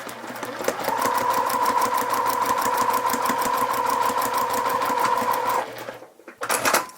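Sewing machine stitching a foundation paper pieced seam, a steady fast rhythmic whirring hum sustained for several seconds up close, then a brief pause and a short final burst.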